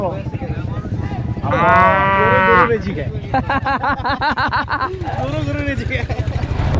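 A cow offered for rides at a beach lets out a long, loud moo close by, with people talking around it before and after.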